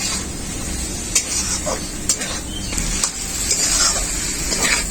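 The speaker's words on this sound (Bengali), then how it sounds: "খুব ভালো করে ওলটাকে মশলার সাথে কষিয়ে নেব" Elephant foot yam frying with spice paste in a pan gives a steady close sizzle, broken by occasional spoon scrapes and stirring clicks.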